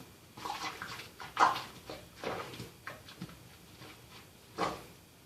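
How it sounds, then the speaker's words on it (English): A hot water tap runs into a sink or mug, a splashing gush rising and falling in uneven bursts with a few sharper clinks, fairly close and with no talk over it. "There's the hot water."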